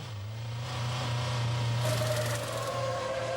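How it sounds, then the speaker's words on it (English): A 2008 Formula One car engine idles with a rattly tick-over at about 4,000 RPM in the pits during the French Grand Prix. The hum is steady and close, with a higher whine rising in partway through. "Such a rattly old noise from the engines when they're in tick-over mode"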